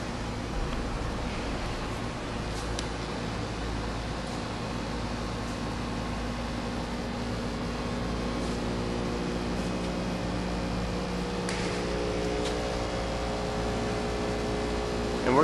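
A vibratory weigh feeder batching titanium dioxide runs at full speed, giving a steady droning hum with faint mechanical tones and a few brief clanks over an even background.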